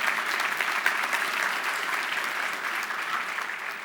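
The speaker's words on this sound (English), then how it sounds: "we can applaud that" Steady audience applause from a large crowd, a dense even patter of many hands clapping that holds at a constant level throughout, with no talking over it.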